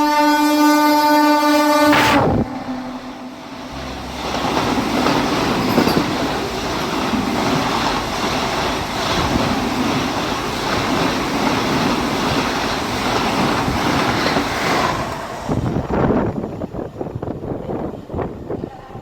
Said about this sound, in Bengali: সেখানে আমাদের ট্রেনের সাথে ক্রসিং হয়ে গেল up to two three zero one Howrah two new Jalpaiguri Vande Bharat এক্সপ্রেসের সাথে